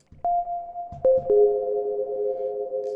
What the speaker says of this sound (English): So here is like the Quartz, more echoey reverb.